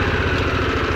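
Harley-Davidson Pan America motorcycle engine during a start attempt, a loud, close, steady low rumble with an even throbbing pulse and no pauses.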